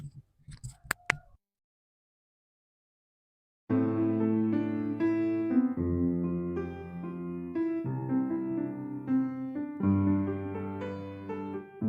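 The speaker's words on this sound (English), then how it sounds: "Moving the middle notes should sound like this." After a short clatter and silence, sustained piano triads ring out, the harmony shifting as the middle note moves between successive chords.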